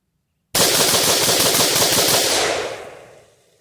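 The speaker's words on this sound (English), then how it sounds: "I'm going to go ahead and see how fast I can rip those 10 rounds out downrange" A rifle fitted with a PSA 3.5 lb match trigger fires a rapid, continuous string of ten rounds in about two seconds, loud and close, the shots blurring together before the report fades out.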